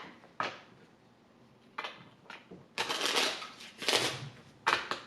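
The upper cannon deck from the I Ching Cards of Destiny game is shuffled by hand, several short papery riffles and bursts of card noise, close and fairly loud, with brief pauses between.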